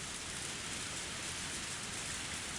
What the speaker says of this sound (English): Only the sound of rain filled this tense moment.